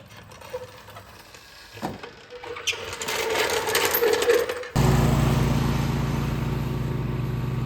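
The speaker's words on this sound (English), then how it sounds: "This mower mows exceptionally well." Ferris 500S zero-turn lawn mower with freshly sharpened blades cutting grass: scattered clicks and a rising engine rumble give way to a loud, steady mowing drone that continues to the end.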